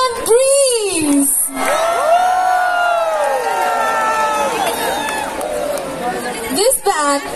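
A crowd cheers and shouts loudly for a band at a university festival in Assam, whoops and excited voices rising and falling throughout.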